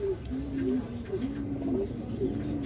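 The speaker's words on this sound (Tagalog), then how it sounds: "Eto ibon natin guys, first dropper si Grisel." A racing pigeon coos softly after landing from a 185 km fun race, a few low rolling coos repeating over steady background noise, with a person talking nearby.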